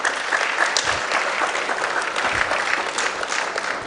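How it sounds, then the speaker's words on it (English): An audience at a management lecture applauds with dense, continuous clapping that stays loud and even from start to finish. "Please give him a round of applause."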